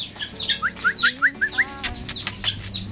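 Small birds chirp and tweet in quick rising calls outdoors at a home with poultry and pet rabbits, several close, bright notes repeating in a loose rhythm over a low background hum.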